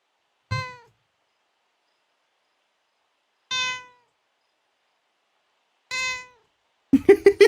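A house cat meows three times, each cry distinct and close, separated by long pauses, followed by a brief clatter of handling noise.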